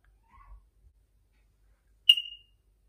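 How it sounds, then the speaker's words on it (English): A single short, sharp smoke alarm chirp in a quiet home at night, loud and near, preceded by faint low rustling. "Check your fire alarms before they start beeping through the night."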